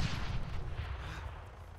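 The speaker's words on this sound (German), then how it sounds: "Ich hab grad von irgendwo einen Schuss kassiert." A gunshot rings out in the King of the Hill shooter game, a loud, low, rumbling blast that decays into a dull boom with no talk over it.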